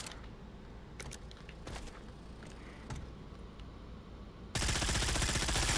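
Rapid submachine gun bursts in Pavlov VR, short clusters of sharp shots spread across the first few seconds, fairly close, followed by a sudden loud steady burst of noise at the end.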